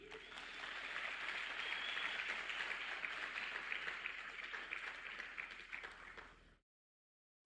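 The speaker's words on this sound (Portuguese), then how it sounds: "Você pode dar um aplauso a Ele?" A church congregation claps in steady, full applause that swells and holds for about six seconds, sounding somewhat distant and soft, then cuts to silence.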